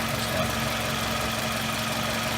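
A Toyota Camry Solara with a 2AZ-FE four-cylinder engine idles steadily after maintenance, a continuous even hum with a faint low tone, close by and heard alone.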